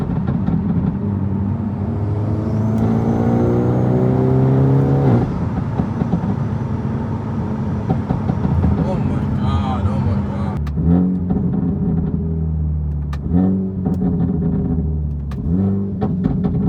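A Hyundai Elantra N with a loud full exhaust revs and drops through gear changes, with a few sharp crackles from the exhaust on downshifts as it slows; steady road rumble underneath.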